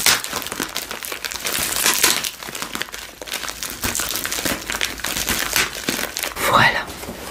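A small parcel is opened up close, its packaging crinkling and rustling in bursts of crackling, scrunching noise, with a soft voice speaking French over part of it.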